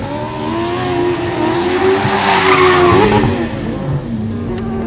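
Formula Student race car from Michigan Ann Arbor, car number 8, lapping an autocross course, its engine revving up and down through corners with tires squealing, loud and close throughout.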